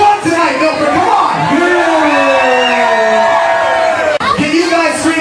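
Concert crowd in Milford cheering, whooping and screaming for a band at a show, a loud sustained roar of many voices with high yells rising over it, briefly dropping out near the end before surging again.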